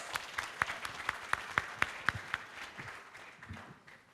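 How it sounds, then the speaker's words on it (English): An audience at a university debate in Fiji claps for both teams, a few sharp near claps standing out over a steady crowd wash that fades out after about three seconds. "Ladies and gentlemen, give both teams a big round of applause."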